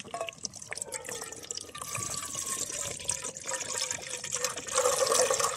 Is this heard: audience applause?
no